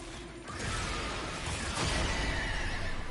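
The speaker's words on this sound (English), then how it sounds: "Fourth ability is a trample ability. You summon horses and they all charge towards an enemy and trample them." In the Warframe video game, a trample ability summons charging horses. Loud whinnying rises over a continuous rumble of rushing, mechanical whooshing noise, with no talk.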